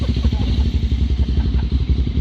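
A trail motorcycle accelerates nearby with a loud, throbbing engine pulsing rapidly and steadily throughout.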